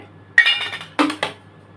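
A metal spoon clinks against a bowl while butter is mixed into a marinade for Lotey (Bombay duck) butter fish fry, giving two or three close, sharp clatters separated by quiet.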